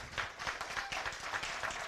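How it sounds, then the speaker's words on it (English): At a city candidates forum in Brockton, the crowd claps for the candidates, giving a modest, fairly faint patter of hand claps with a loose rhythm and no voices over it. "let's give them all a round of applause"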